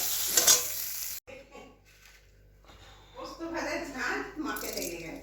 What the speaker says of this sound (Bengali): একটু পোস্ত ভাজা।